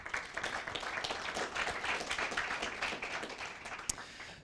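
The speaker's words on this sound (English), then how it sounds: "Can we have another round of applause for all of our speakers?" Audience at a panel on boys' elementary school outcomes applauds the speakers, a moderate, fairly distant round of clapping with distinct individual claps that continues evenly and starts tapering at the end.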